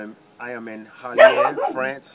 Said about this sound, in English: Sorry about the dog right here.